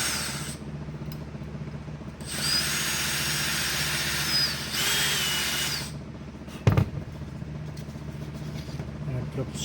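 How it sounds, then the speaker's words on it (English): A power drill countersinks holes in a scrap wooden board in a shop, whirring in two steady bursts of a couple of seconds each at moderate level, followed by a brief clunk, with quiet room hum between. "Countersink some holes in here."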